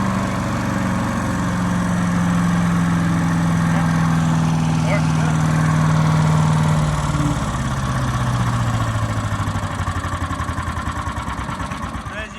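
A Predator 212cc wood chipper engine runs steadily and loudly up close, a constant throbbing drone that holds a pitch, steps lower partway through and tapers toward the end, with someone talking over it.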